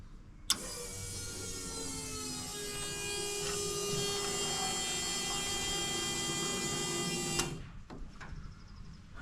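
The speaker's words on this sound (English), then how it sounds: "Now let's turn the pump on and see what pressure we've got." An electric fuel pump runs with a steady whine and hum for about seven seconds, then cuts off abruptly, leaving a few faint clicks.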